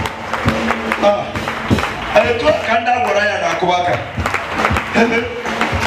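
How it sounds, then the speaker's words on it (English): Church congregation clapping during worship, scattered handclaps heard under a preacher speaking and singing continuously in a loud, reverberant room. "Can I hear you clapping for Jesus?"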